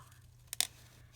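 Paper being fussy-cut with scissors around flower shapes for a spring blossom paperclip embellishment: two quick, close snips, faint against a quiet room hum.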